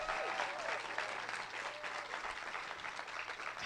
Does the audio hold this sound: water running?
no